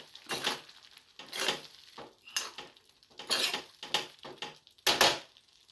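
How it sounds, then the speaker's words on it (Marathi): A lid goes onto a pan of mushroom curry over a low flame, making a string of close metallic clanks and scrapes with short pauses between them. "त्याच्यावर आता आपण झाकण मारलंय"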